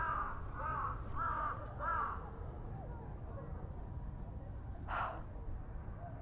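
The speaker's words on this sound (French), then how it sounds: "Il a des choses à dire, le corbeau." A crow caws in Yoyogi park, Tokyo: three quick caws at the start and one more a few seconds later, clear but moderately distant over steady outdoor background noise.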